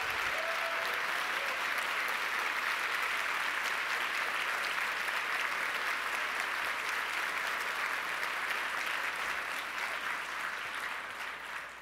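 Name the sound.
round of applause for conference team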